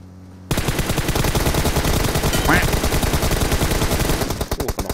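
Rapid automatic gunfire in an online shooter game, a dense, steady burst of rounds firing for several seconds, close and loud, with a brief voice cutting in mid-burst.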